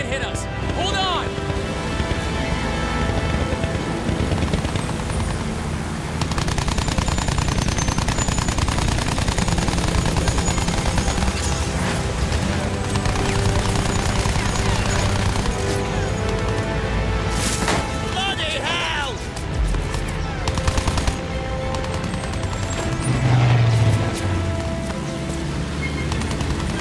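Bomber gunners in Battlefield 1 fire sustained machine gun bursts over a steady roar of aircraft engines, dense and continuous, with a voice heard amid the din.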